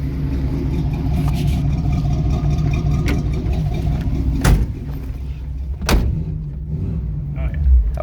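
A 1971 Chevy Cheyenne C10 pickup with a 350 V8 running after a cold start, its engine a steady low rumble close by, interrupted by a few sharp knocks and clunks like a door or latch.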